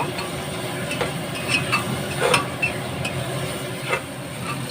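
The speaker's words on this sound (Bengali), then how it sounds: "ভালো করে একটু কষিয়ে নেব।" Mutton fat pieces sautéing in a pan for ghugni, a continuous soft sizzle with occasional scrapes and clinks of a stirring spoon, close and steady throughout with no talking.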